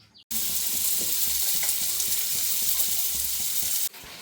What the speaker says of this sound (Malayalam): ചൂടായി കഴിയുമ്പോൾ അതിലേക്ക് കുറച്ച് വെളിച്ചെണ്ണ ഒഴിച്ചു കൊടുക്കാം.